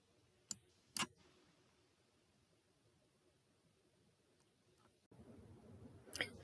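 Computer mouse clicks: two sharp, quiet clicks close together, a pause, then another click after a faint rise in room noise.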